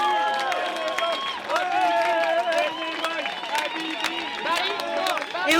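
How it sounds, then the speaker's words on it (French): At a neighborhood street festival in Paris, a crowd applauds volunteers with scattered clapping, mixed with cheering and loud overlapping voices. "On peut les applaudir effectivement"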